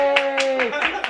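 Several hand claps in a quick, even rhythm, about four or five in a second, sound close by over a steady humming voice or tone.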